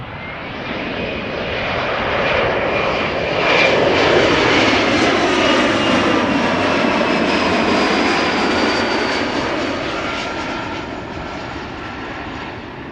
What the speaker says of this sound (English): Arriving from the Czech Republic, this Embraer 175.